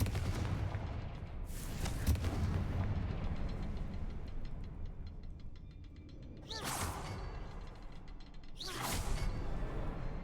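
Confringo spell cast in a video game: loud whooshing explosive bursts, three in all, rising over a dense rumbling background, with no talk.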